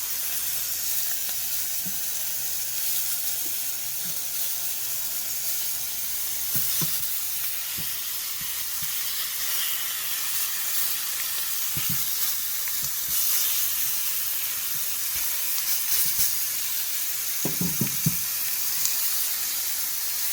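Sirloin steak meat searing in a pan, a steady broad sizzle and hiss running throughout, with occasional sharp pops and crackles, moderately loud and close, no talking.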